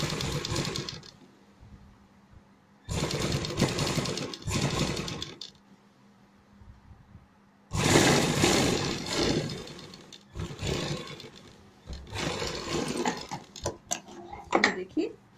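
A sewing machine stitches a designer neckline in repeated bursts of fast whirring, each lasting a second or two and separated by quiet pauses, recorded close up.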